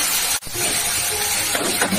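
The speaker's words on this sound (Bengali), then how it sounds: "সুন্দর করে ভাজি।" Soybean chunks fry with turmeric in a pan, giving a steady, loud sizzling hiss that continues throughout with only a momentary dip.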